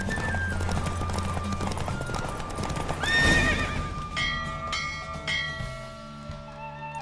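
A horse gallops in a race in the Witcher 3 video game, with rapid hoofbeats, a loud neigh midway and bell-like tones ringing behind.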